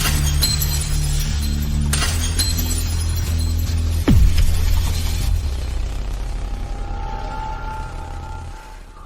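Drinking glass shattering in a home, a sharp crash cutting across a steady engine-like hum, followed by a faint ringing tone as the noise fades.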